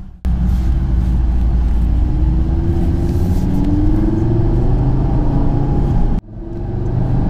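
A 400 hp Audi RS3 climbs the Stelvio Pass below the tree line, its engine a steady, loud rumble with a brief rise in pitch, continuing unbroken for about six seconds before a sudden drop and recovery.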